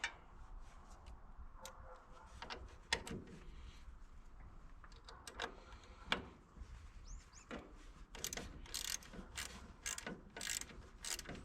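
Metallic clicks and ratcheting turns as a wrench loosens the positive battery bolt on an MTD 990 riding mower, sharp irregular taps spread across the clip, close and fairly quiet with no talk.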